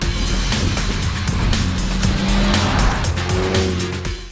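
Honda Civic Type R and rival hot hatch performance cars from 2018, engines roaring loudly and steadily while tires squeal in long, sustained bursts under hard driving.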